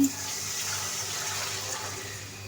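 Water is poured into a pan of spiced beef cooked with turmeric, making a steady close gush that runs without a break after a brief clatter at the start.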